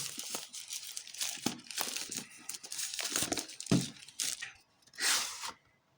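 Cardboard and plastic packaging of Transformers Bluetooth headphones being torn open, with repeated ripping and crinkling bursts close up, irregular and fairly loud, ending in a short quiet moment.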